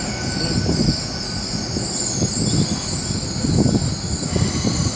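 A Class 800 train, unit 800304, pulls into Swindon station in Wiltshire, a steady loud rumble of wheels on rail with rhythmic clunks over the joints and a faint high squeal, no voices.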